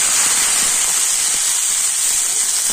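Chopped tomatoes dropped into hot oil with fried garlic and dried red chili, giving a loud, steady close-up sizzle and hiss throughout.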